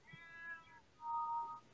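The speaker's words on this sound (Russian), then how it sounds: "Кошка. Кошка-то?" A cat meows twice indoors, a longer rising call followed by a shorter one after a brief pause, close and fairly soft, with no voices.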